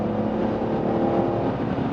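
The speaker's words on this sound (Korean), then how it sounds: "어우, 배기 사운드 봐, 씨." Exhaust note of a BMW E46 M3, third-generation M3, under throttle: a loud, steady engine roar from start to end, close and continuous, with no talk over it.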